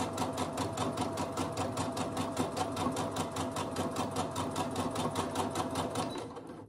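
A sewing machine stitches through fabric layered with batting in a fast, even run of rattling needle strokes that continues close and steady before easing off at the end.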